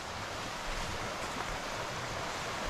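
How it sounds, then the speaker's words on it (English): Swift creek water rushes through a steep ravine on Emmerson Creek, a steady, dense broadband roar with no pauses and no voices. "Water's collected very nicely into a steep ravine again. Water's moving swift"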